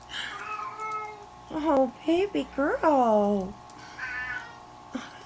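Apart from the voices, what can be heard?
pet cat meowing loudly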